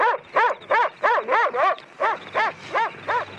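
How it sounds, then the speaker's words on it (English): An Alsatian dog barks repeatedly at close range, a regular series of about ten loud, evenly spaced barks with no other sounds. "An Alsatian."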